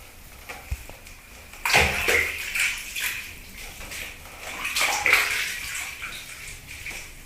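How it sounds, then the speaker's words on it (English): Water splashes and sloshes in a bathtub or basin as a person sits in the water and rinses off by hand, in a Namibian village home; close, intermittent bursts of splashing with quieter gaps between. "Then I sit in the water and rinse myself off with my hands."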